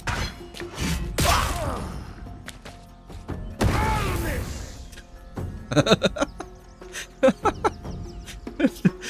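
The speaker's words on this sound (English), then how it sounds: "the little explosion afterwards" A spell explosion from Searing Smite lands in the fantasy role-playing game Solasta II: loud crashing bursts with a rumbling tail, followed by a run of sharp thuds and impacts.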